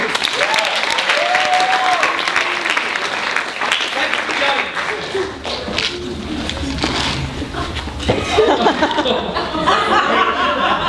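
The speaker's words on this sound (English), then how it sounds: "After a warm round of applause." Audience applause at a Christmas comedy show, clapping mixed with chuckles and laughter from the crowd while voices talk over it, swelling again toward the end.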